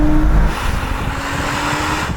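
A Porsche engine revs hard toward 7,000 RPM, heard from inside the car as a loud, steady high-pitched howl over road rumble, continuous throughout with no voices.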